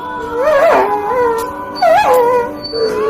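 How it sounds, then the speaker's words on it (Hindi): A dog howls in long, wavering cries that rise and fall, two main howls close up and loud with a brief whimpering dip between them, no voices present. "इवन मेरा कुत्ता भी भौंकना छोड़ के ऊ करने लगा था।"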